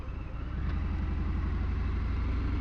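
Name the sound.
Harley Davidson Fat Bob motorcycle engine while riding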